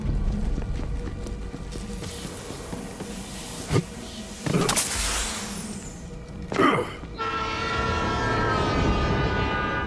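A train running on a restored railway in Borderlands 3, a steady rumbling rail sound throughout with a few sharp clanks and bursts, ending in a sustained whistle-like tonal blast.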